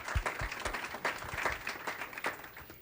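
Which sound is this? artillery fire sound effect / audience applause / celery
audience applause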